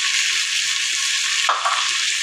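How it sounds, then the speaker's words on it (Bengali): Ground spice paste with garlic frying in hot oil for a beef dish, a loud continuous sizzle with a brief sharp surge of spattering midway, no talking. "এবার এই বাটা মশলাটা দিয়ে দিব"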